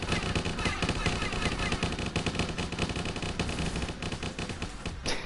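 Rapid bullet fire from the PS4 video game Yorbie comes in dense, continuous bursts, loud and unbroken for several seconds, with a brief lull near the end.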